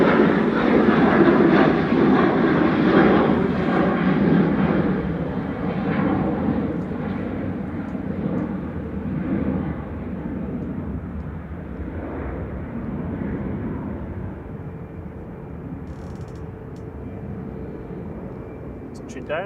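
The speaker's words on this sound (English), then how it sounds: "Touching down is Ryanair 3209 from Malaga, 9HVUQ and MAX 8." A Ryanair Boeing 737 MAX 8 from Malaga touches down at Manchester Airport, a loud broad engine roar that gradually fades and softens through the clip, with people talking over it.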